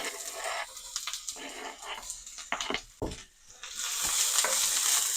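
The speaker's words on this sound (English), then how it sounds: "I'm going to cut my heat down to low, and I'm going to add in my onion." Onion dropping into avocado oil in a pan over low heat, with stirring and a steady sizzle that grows louder and continuous after a few seconds of clattering.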